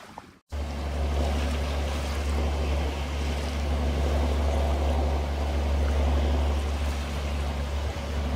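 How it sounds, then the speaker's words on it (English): A sailing yacht runs at about six knots across open sea between Greek islands, with a steady, loud rush of water and wind noise continuing for the whole stretch after a brief quiet start. "We're sailing on nicely."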